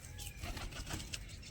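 Soft, close cooing from pure white pigeons at a nest, with light flutters of wing flapping in a quiet setting.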